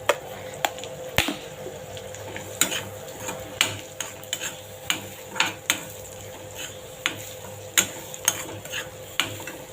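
Shark fish cooks in a pan with salt under a soft sizzle, while a utensil stirs it with irregular scraping clicks and taps.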